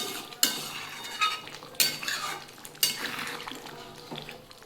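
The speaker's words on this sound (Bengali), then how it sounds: "আমি একটু নাড়িয়ে দিচ্ছি" A spoon stirs mutton curry in a metal pot. There are a few distinct clinks and scrapes against the pot over a soft, low simmer, fairly close and quiet, with no talking.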